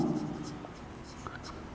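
A marker or chalk scratches out handwriting on a board in short, quiet strokes close by, with a teacher's voice faintly underneath.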